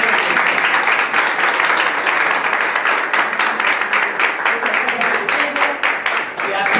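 Group of young salespeople clapping at a sales motivation session, a steady patter of hands that runs throughout with voices mixed in.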